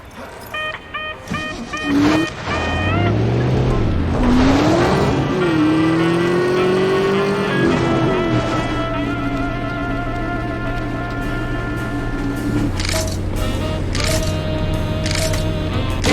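A car in the video game The Saboteur drives up to a race start line. Its engine revs and climbs in pitch, then holds a steady droning hum, with a shift in tone near the end.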